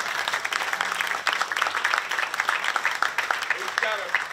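An audience at a Farm Bureau luncheon applauds and cheers for a university president, a steady mass of clapping from a crowded room with a few voices calling out.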